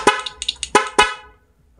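Several short honks from a stock car horn in quick succession, loud and close, the last blast trailing off into quiet.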